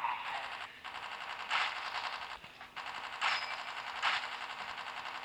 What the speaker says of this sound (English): Shooting at the ground.